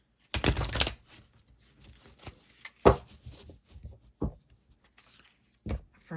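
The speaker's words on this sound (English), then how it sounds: "let's shuffle here." Tarot cards shuffled by hand in short bursts: a loud riffle at the start, then scattered softer flicks and slaps with brief pauses between them, close and alone with no talk.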